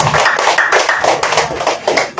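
Congregation applauding at a church service, a close, dense burst of clapping with uneven rhythmic pulses that holds steady for a couple of seconds before fading slightly.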